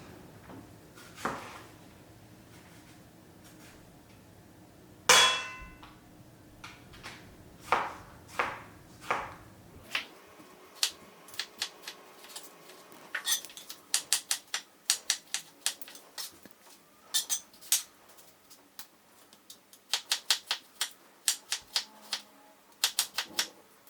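A knife chops tomatoes on a board with a quick run of sharp, uneven chops that gets denser and faster toward the end, close and clear with no talking.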